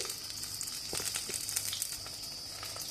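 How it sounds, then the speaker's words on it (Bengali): Four pieces of rohu fish frying in oil, a faint steady crackling sizzle with a few small pops, quiet and uninterrupted. "নিয়েছি চার পিস রুই মাছ অলরেডি ভাজতে শুরু করে দিয়েছি"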